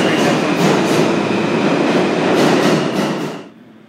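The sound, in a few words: subway train arriving at station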